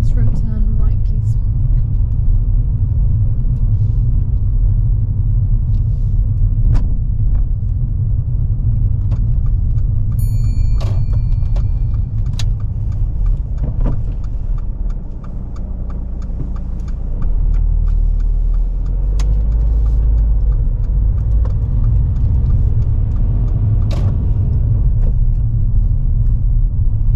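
A car's engine hums and the tyres rumble steadily on the road during a UK practical driving test, loud and continuous throughout, with faint voices inside the cabin.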